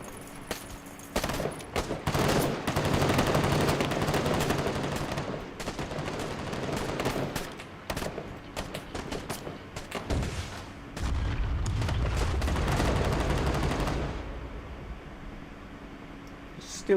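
Massed gunfire in a video game as units shoot down at enemies: dense rattling volleys and booms over continuous battle noise, with someone talking at times.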